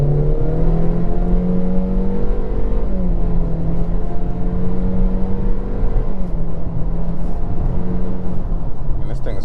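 A 2022 Honda CR-V Touring AWD engine revs steadily while held on the brake, a loud sustained drone with shifting harmonic pitch that rises and dips over about nine seconds.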